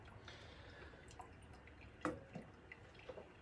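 Pour-over coffee drips through a filter as water drains, a few faint, scattered soft drips and trickles in a quiet room.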